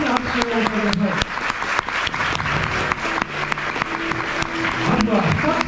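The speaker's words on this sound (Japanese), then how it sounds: "皆様大きな拍手をお願いします。" Audience at a KONAMI-hosted eFootball fan meetup breaks into loud, sustained applause as six streamers are introduced, steady dense clapping running throughout with voices and music mixed in.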